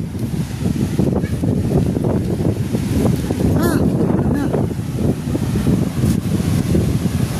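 Wind buffets the microphone over a steady wash of sea waves, loud and constant, with brief faint voices mixed in.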